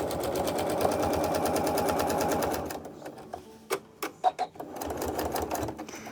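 A sewing machine free-motion quilts a client's memorial quilt, running in a fast steady buzz for a few seconds, then stopping for several short clicks and knocks before starting again more quietly.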